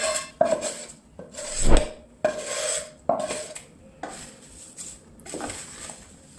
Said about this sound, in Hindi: अभी पे हम तड़का को पोहे में मिक्स कर लेते हैं।